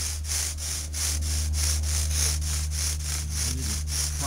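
Rhythmic rasping friction of a bow drill on wood, steady back-and-forth strokes about four per second, close and continuous with a low hum beneath.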